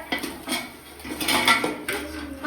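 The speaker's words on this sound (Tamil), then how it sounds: "கறி மசாலா போட்டு கிண்டிடுவோம்" A metal spoon scrapes and clanks against a pot while country chicken curry with masala is stirred, a few irregular clattering strokes close by with no talking.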